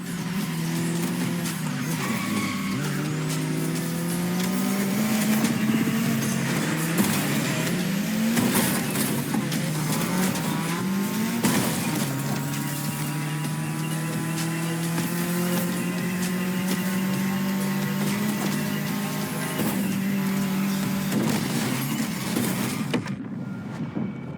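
Car engine in The Crew Motorfest video game, driving through Hawaii's state capital, revving and shifting continuously with rising and falling pitch, loud and alone for about twenty-four seconds, cutting off at the end.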